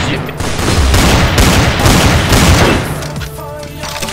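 Rapid gunfire in Counter-Strike, a loud, dense volley of shots lasting several seconds before tapering off, with a faint voice underneath.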